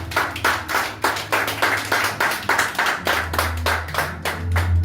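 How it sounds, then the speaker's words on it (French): A church congregation claps in steady rhythm after the Bible reading, many hands striking together in a brisk, even beat close by, backed by a low sustained hum. "Est-ce qu'on peut acclamer pour la parole?"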